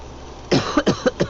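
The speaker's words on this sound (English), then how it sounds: "No, not COVID, just a cough." A short run of four or five dry, rasping coughs in quick succession, close and fairly loud, with no talking.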